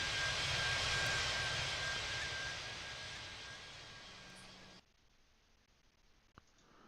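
A fixed-wing aircraft engine roaring on takeoff in the airport game Tower! Simulator 3, a loud broadband rush that gradually fades, then cuts sharply to quiet with a faint click.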